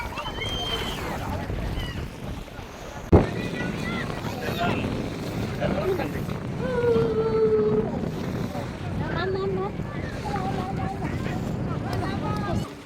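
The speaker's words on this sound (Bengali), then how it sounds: "আজকে বাতাস বেশি" Gusty wind buffets the microphone over a rushing seaside background, with people talking nearby and a sharp knock partway through.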